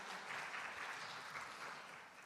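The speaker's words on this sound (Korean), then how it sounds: "멋진 발표 들려주신 교수님께 다시 한번 큰 박수 부탁드립니다." Steady applause from a conference audience fills a hall for a professor's talk at a world ocean forum's marine bio session, dense and even throughout before easing slightly at the end.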